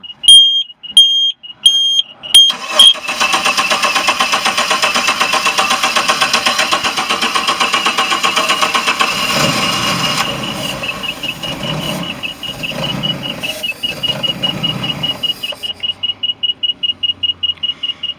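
Larson boat engine with a fuel delivery fault cranking and turning over for about twelve seconds without catching, a steady rapid churning under a shrill electronic alarm that beeps before and keeps sounding after the cranking stops.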